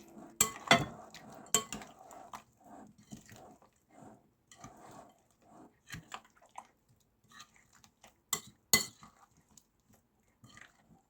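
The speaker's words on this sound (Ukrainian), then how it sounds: "Все гарно змішую." A spoon clinks and scrapes against a bowl as a mixture with apple cider vinegar and oil is stirred, quiet sporadic taps with a few sharper clinks.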